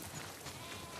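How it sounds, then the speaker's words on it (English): A steady wash of bleating sheep in The Last of Us Part II Remastered, moderately loud and continuous, blending into a dense, noisy flock sound with no talking. "We definitely have way too many sheep."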